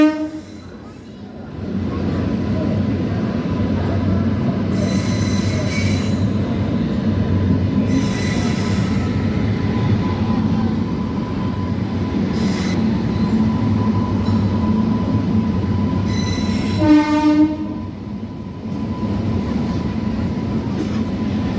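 The Hutatma Express passenger train runs after leaving Daund, its wheels rumbling and clattering steadily with a continuous ringing squeal and occasional brighter bursts of rail noise, loud and close from inside.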